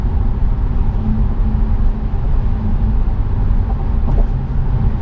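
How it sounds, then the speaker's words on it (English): Road and wind noise inside an Infiniti G37 coupe cruising at 65 mph, a steady, loud, low rumble with a broad hiss over it and no voices. "there's a little bit more road noise, a little bit more wind noise with the G37 versus the Q60"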